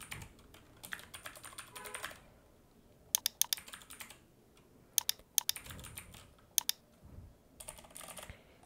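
Someone types on a computer keyboard while filling in a Google Form on a WordPress website, producing quick bursts of close, soft key clicks, with sharper isolated taps between pauses.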